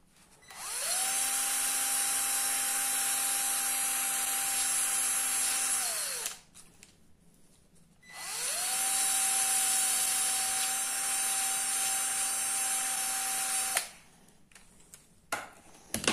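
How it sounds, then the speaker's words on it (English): A power sander whirs steadily on a small wooden part for about six seconds, pauses, then runs again for another six seconds; close and loud, with brief scraping knocks at the end. "Needs a little more sanding, but it doesn't take long."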